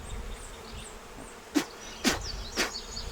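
Bees buzzing around an open beehive being dusted with powdered sugar against varroa mites, a steady insect drone throughout with three louder buzzing passes as bees fly close by the microphone.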